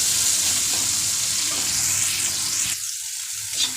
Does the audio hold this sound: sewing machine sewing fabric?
no